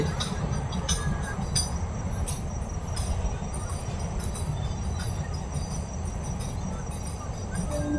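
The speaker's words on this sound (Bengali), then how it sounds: "ট্রেন আসছে" A train passes along a railway line beside temple farmland at Kapil Muni ashram, a steady, loud rumble of wheels and carriages with faint brief squeals, filling the whole stretch without pause.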